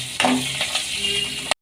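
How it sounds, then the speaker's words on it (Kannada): Curry leaves and cumin crackle in hot oil for a tempering: a short, close burst of steady sizzling with a few sharper pops, ending abruptly. "ಎಣ್ಣೆಯಲ್ಲೇ ಫ್ರೈ ಆಗಲಿ."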